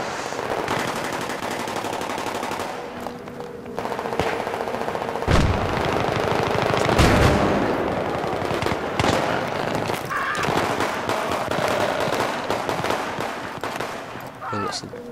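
Gunfire in Battlefield 3 team deathmatch: dense bursts of automatic fire and sharp shots crackle through the whole stretch, loud and close, with heavier impacts around the middle and players talking over the action.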